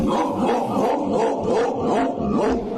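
Dog barking and yapping in quick repeated bursts, fairly loud and close, with a rough, excited quality and no talk over it.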